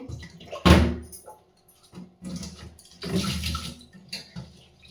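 Water pours and splashes while potted plants and their pots are washed clean, coming in two loud gushing bursts separated by quieter dribbling and handling noise.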